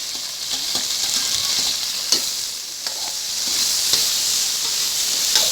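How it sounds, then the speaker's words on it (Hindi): Green chilies sizzle in hot ghee for a lotus stem curry, a steady bright frying hiss with occasional soft stirring clicks and pops, close and continuous with no talking. "जैसे घी गर्म होगा हम डालेंगे इसमें मिर्ची"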